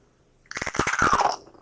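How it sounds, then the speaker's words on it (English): Crunchy fried murukku snack bitten close to the mic, a burst of sharp cracking crunches lasting about a second, alone. "You can hear the sound of crunchiness."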